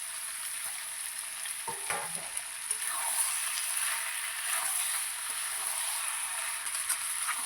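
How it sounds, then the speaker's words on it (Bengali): Spicy chicken kosa with potatoes sautés in a pan, giving a steady, close, hissing sizzle throughout, with a few soft scraping stirs near the start. "মাংসটা আমি ভালো করে কষিয়ে নেবো।"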